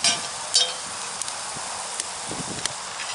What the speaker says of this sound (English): We're gonna let them onions caramelize up some.